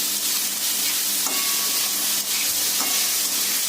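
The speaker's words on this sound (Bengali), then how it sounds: "গাজরটা একটু ফ্রাই করা হয়ে গেলে এখন আমি ক্যাপসিকামগুলো দিয়ে দিলাম" Capsicum and carrots frying in a pan give a loud, steady sizzle with a few stirring scrapes, close up and continuous with no talking.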